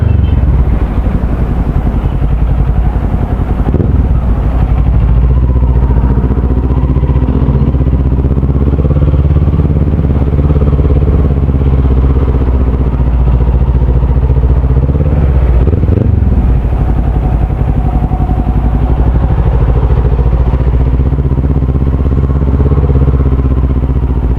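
Kawasaki Z400 motorcycle engine on a test ride, a loud close steady drone with shifting pitch and brief revs between gear changes, running the whole time without talk.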